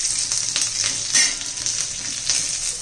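Curry leaves frying in hot oil in a pan while cooking spiced brinjal (masale vangi), a steady close sizzle with crackling pops and light stirring scrapes throughout.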